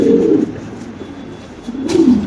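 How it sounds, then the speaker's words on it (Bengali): A Lahori pigeon at a pigeon farm gives low, throaty coos close by, one burst at the start and another near the end, with a quieter stretch between them. "দেখেন লাউরির ডাকটা দেখেন"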